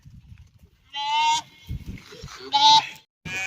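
Sheep bleat loudly and close by in three distinct calls, two longer cries and a short final one, with quiet rustling between them.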